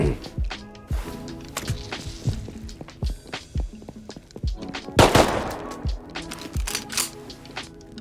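Rapid gunfire in the survival game Rust, a string of sharp close shots in irregular bursts with one louder cluster midway, amid footsteps and scuffling.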